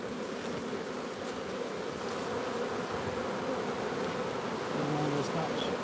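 Dense, steady buzzing of many honeybees inside a hive, close and continuous, a constant droning swarm with no talking.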